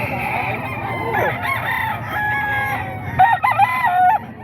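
A fighting rooster crows loudly and close, one long drawn-out call followed by a second shorter crow, with faint clucking and farmyard noise beneath.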